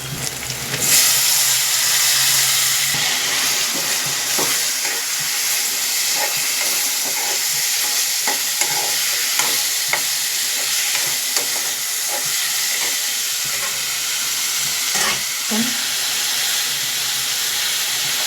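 Curry leaves and spices crackle in hot oil for a Rayalaseema-style taro root tamarind stew, with tomato then tipped in; a loud, steady hiss runs throughout, broken by scattered sharp pops and clinks.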